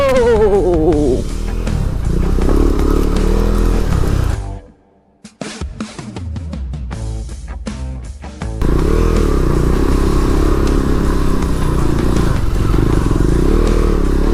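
A KTM Duke 390 rides hard off-road, its engine roaring loud and close with rattling and thumps over rough ground, briefly dropping to near silence midway before the full engine noise returns.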